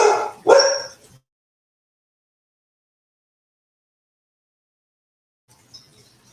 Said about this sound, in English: That's my other dog, Dallas, deciding he wants to make his presence known.